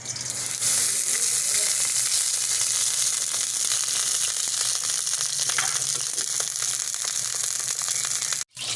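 Ghee sizzling and frying steadily in a pan as the base for a highway-style chicken karahi, a continuous close hiss that holds loud and even before a brief dropout near the end.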